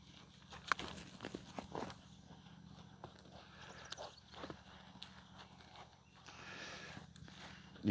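A horse walking, its hooves clip-clopping in irregular, fairly faint steps over a low background hum.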